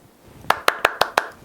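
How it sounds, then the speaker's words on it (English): A short burst of applause, five sharp separate claps in a quick, even rhythm, close and fairly loud, with no voices over them. "Applause, claps in the right direction."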